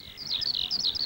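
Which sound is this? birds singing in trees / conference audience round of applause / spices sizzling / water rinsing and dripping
birds singing in trees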